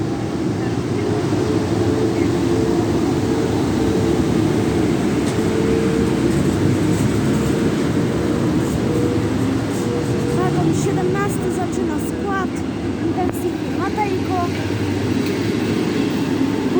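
Loud, steady low rumble of a passenger train departing Opole Główne station with a droning locomotive engine, and a few faint high beeps partway through. Voices are heard under the rumble.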